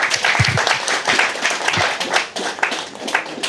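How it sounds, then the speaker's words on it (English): An audience gives a speaker another round of applause, a close burst of uneven hand clapping with individual claps standing out, continuing at fairly steady loudness for several seconds. "Can you give Father another round of applause?"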